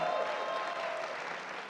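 Audience applause following an introduction of film guests at a movie event, a steady wash of clapping that holds evenly throughout with a murmur of voices mixed in.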